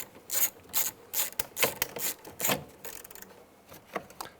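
A ratchet tightens a bolt while fitting an exterior door handle on a 2002-2009 Chevy Trailblazer. Close, crisp bursts of rapid clicking come in quick repeated strokes with short pauses between them.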